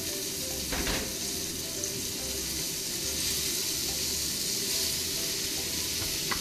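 Pork and cabbage stir-frying together in a pan for a sweet-and-sour pork and egg dish, a steady loud sizzle with faint stirring clinks throughout and no talking.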